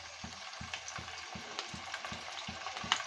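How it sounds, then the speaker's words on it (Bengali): Onion paste frying in hot oil for eggplant bharta, a steady close sizzle with regular soft stirring knocks roughly every half second and no talk. "একটু ভেজে নেব, যাতে একটা সুন্দর ফ্লেভার আসে।"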